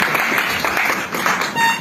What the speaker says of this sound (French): Si vous pouvez applaudir pour lui